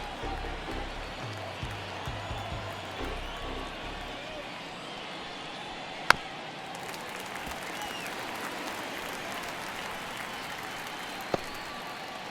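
A stadium crowd murmurs and cheers in MLB 24 The Show during a Dodgers at Arizona baseball game, a steady roar with a couple of sharp cracks, under a play-by-play commentator's voice.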